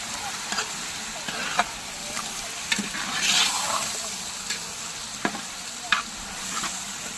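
Chicken pieces fry in a pan as they are stirred, a steady close sizzle broken by periodic scrapes and taps of a spoon against the pan, with no talking.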